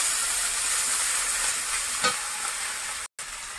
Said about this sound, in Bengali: গোটা গরম মশলা দেবো তেলের মধ্যে, তেজপাতা, এবারে দেবো পেঁয়াজ বাটা, আর একটু আদা বাটা।